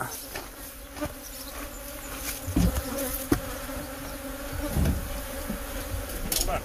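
Steady buzzing of many bees fills the air, a dense insect drone with occasional louder passes close by.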